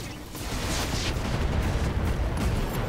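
Mech weapons in the video game Roguepoint firing together at an enemy leg, a dense, loud, sustained roar of booming fire with no talk.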